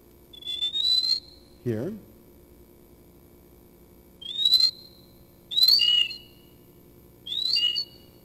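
Mouse ultrasonic song slowed and pitched down into audible range, a series of rising bird-like whistled chirps in separate bursts, with one low thump between them.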